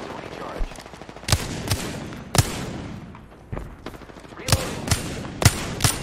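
Rapid gunfire cracks through an Apex Legends late-game firefight near a Caustic, with sharp single shots and short bursts spaced irregularly over a busy background.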